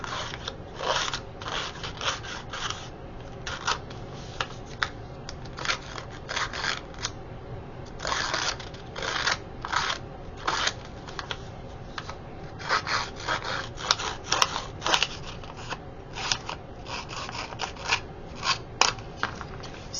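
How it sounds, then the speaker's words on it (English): Paper edges are scraped and distressed for a scrapbook layout, giving short, dry rasping strokes in irregular bursts, close and fairly quiet, with no talking. "I'm distressing the bigger ones, and that gives it a little bit of a white torn edge look"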